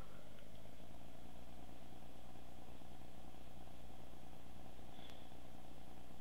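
A steady low engine drone with a rumbling, raspy tone from a Class 117 diesel multiple unit in Train Simulator 2014, pulling slowly in first gear, continuous and unchanging, with no talking.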